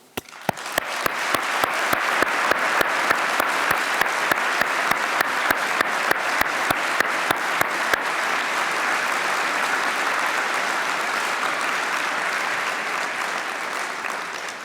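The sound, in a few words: graduates applauding their supporters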